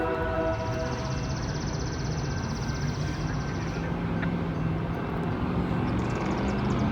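A passing train sounds a thin, reedy, somewhat ragged horn for a few seconds over the constant rumble and clatter of rail cars rolling by.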